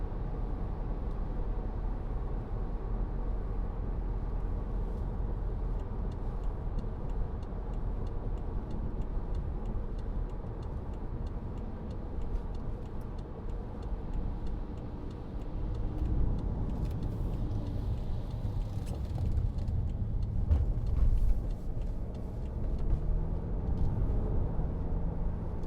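Inside a 2014 BMW 520d M Sport saloon with a 2.0-litre diesel, cruising at 50 mph, the cabin holds a quiet, steady low road and engine hum with faint ticking. The rumble swells slightly toward the end.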